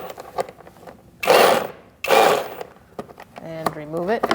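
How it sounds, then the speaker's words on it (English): An 8mm socket ratchet works a bolt near the fog light of a 2008-2014 Mercedes-Benz C300: two short, loud bursts of rapid ratcheting clicks close by, then a brief rising voice-like whine at the end. "So I'm going to use my 8mm socket on this."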